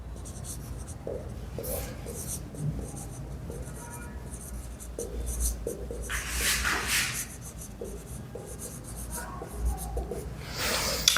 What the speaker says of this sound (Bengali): অঙ্কনে গিয়ে লিখি আমরা কি কি করলাম।